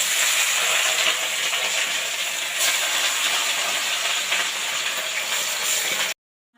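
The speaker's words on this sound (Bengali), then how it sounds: "প্রথমে মাছগুলো আমি ভেজে নেব।" Fish frying in a pan gives a loud, continuous close-up sizzle and hiss that holds steady, then cuts off abruptly at the end.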